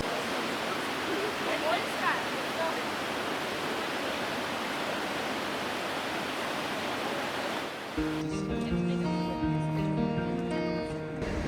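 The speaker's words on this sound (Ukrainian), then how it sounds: "І подивіться на цей водоспад." Yosemite waterfall in winter roaring as a constant dense rush of water for about eight seconds, after which the sound shifts abruptly to a voice speaking over the background.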